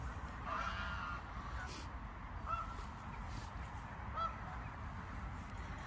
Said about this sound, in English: I love them geese.